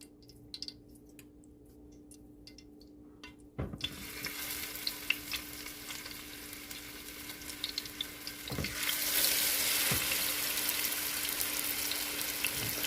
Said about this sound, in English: let's go ahead and get these short ribs in the pan